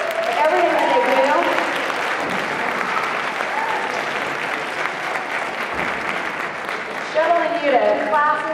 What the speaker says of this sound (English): can I have all the students give a round of applause for their parents right now?